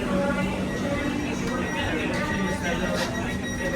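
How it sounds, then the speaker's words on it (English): Inside a six-carriage Melbourne X'trapolis 2.0 train: a steady rumble and hum of the moving carriage, with faint tonal whines and a few light clinks, while people talk nearby. "This is a 6 carriage long train."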